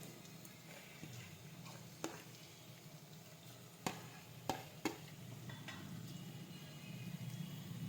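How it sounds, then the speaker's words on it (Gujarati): Chopped tomatoes sauté in a pan for brinjal bharta, giving a faint, low sizzle with a few sharp clicks and taps scattered throughout, as if from a stirring utensil against the pan. "હવે આપણે સાતળી લઈશું."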